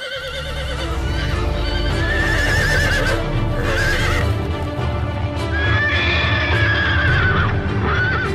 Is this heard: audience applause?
no